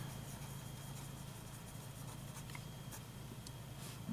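An Esterbrook Dollar Pen with a broad, slightly flexible nib writes with a faint, continuous close-up scratching under a soft background hiss.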